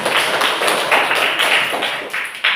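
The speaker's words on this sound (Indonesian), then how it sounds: "Ya, tepuk tangan untuk kelompok 4." Students in a classroom clap for a presenting group, a short burst of close, dense hand clapping with uneven rhythm and sharp individual claps standing out, no talking over it.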